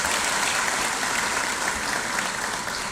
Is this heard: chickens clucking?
no